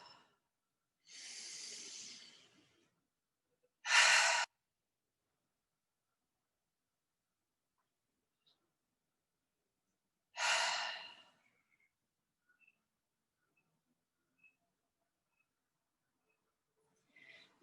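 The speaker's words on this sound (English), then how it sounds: "take a deep breath in through the nose and then maybe letting it all go" Two slow, soft breaths through the nose, a long inhale followed by a short exhale, then a second exhale several seconds later, quiet and close in a still room during a hamstring yoga flow.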